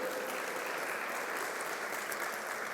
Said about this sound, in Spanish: Que le vas a dar un aplauso al Señor, hazlo fuerte.